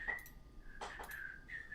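A person whistles several short, wavering notes up close, a thin sustained tone broken by brief breathy bursts, with no talking.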